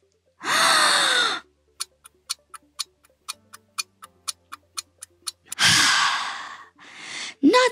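A person sharply inhales, holds their breath while a clock ticks steadily about a dozen times, then exhales and gasps for air, close and loud with no talking.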